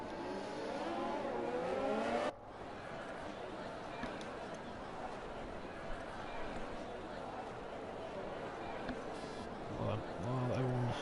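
Race cars in the Gran Turismo racing video game rolling off on their formation lap, engines droning and revving at a moderate level under commentary, with a brief dip and a pass-by whine near the end.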